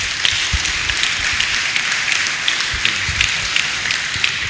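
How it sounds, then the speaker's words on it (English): An audience in a church clapping together at a Fathers' Day lecture, a steady dense wash of applause from many hands throughout, no speech. "Let's clap our hands very well for our daddy."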